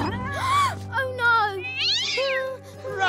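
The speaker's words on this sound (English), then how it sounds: "Hold still, cat." Several drawn-out cartoon cat meows in a Peter Rabbit animation, rising and falling wails in quick succession, loud and close over a faint background tone.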